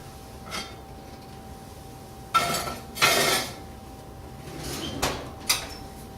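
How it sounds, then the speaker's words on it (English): A baking pot is set on bricks inside a preheating oven for whole grain sourdough rye bread, giving a few distinct metallic clunks and scrapes with quiet gaps between them. "I'm going to go ahead and stick the pot in there right on the bricks"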